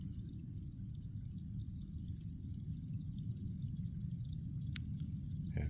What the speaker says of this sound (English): if you turn your speakers up, you can hear the creek